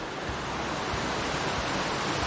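Krating Waterfall in Chanthaburi, Thailand, roars as a continuous loud wash of falling water, close and steady with no voices.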